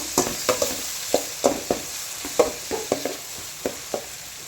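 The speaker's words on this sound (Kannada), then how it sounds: "ಈಗ ಇದಕ್ಕೆ ಟೊಮೊಟೊ ಹಾಕ್ತಾಯಿದ್ದೀನಿ. ಸೊ ಟೊಮೊಟೊ ಎಲ್ಲ ಒಂಚೂರು ಬೇಯಬೇಕು." Tomatoes frying with softened onions in a pan for a restaurant-style drumstick curry, heard as a low sizzle with a dozen or so sharp scraping stirs at an irregular rhythm, close and moderately loud, with no talking.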